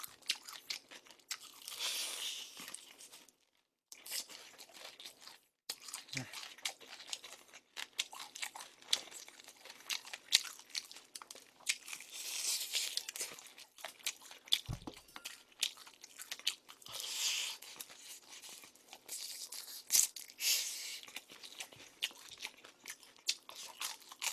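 Crunchy fried chicken, including snow-cheese and sweet-spicy glazed pieces, is bitten and chewed close to the mic in a steady run of crisp crackling crunches with brief pauses and no talking.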